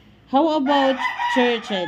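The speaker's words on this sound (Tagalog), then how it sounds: "O, pasensya na kayo sa manok" A rooster crows loudly and close by in a few drawn-out, wavering calls while someone speaks over it.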